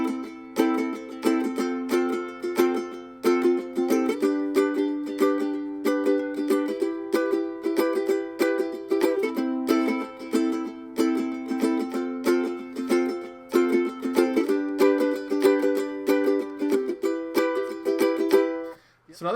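A ukulele strums chords in a steady, continuous rhythm with heavier accents on beats two and four, bright and close with dense strokes and no talking.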